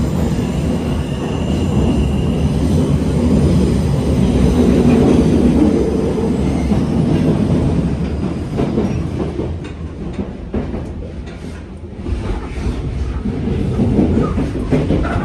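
A train heading to the Palace of Versailles rumbles along its rails with a loud, close, continuous roar and rattle that swells and dips slightly, with no voices over it.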